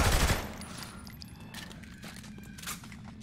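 Gunfire in Saints Row: The Third Remastered opens with a loud, close burst, then scattered lighter shots and rattles continue at lower volume.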